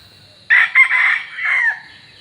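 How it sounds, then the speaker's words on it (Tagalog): A single rooster crows loudly and close by, one long cock-a-doodle-doo breaking from quiet and fading out. "May mga manok oh."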